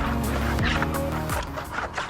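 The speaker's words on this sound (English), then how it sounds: "Chicken." Homestead fowl calling near a pen, a few loud warbling, gobble-like bursts over steady outdoor background noise, close to the microphone.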